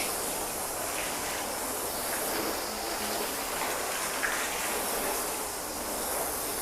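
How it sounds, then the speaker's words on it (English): A car being rinsed down with water after a spray sealant test, a steady broadband hiss of spraying water running continuously, fairly close and alone. "so let's go ahead and rinse this down now"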